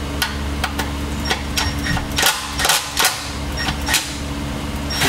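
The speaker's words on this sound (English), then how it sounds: "once I come in and loosen these with my gun here" Pneumatic impact gun rattling on transmission cooler line bolts of a Chevrolet Trailblazer in a garage, several short loud bursts over steady shop hum and background machinery.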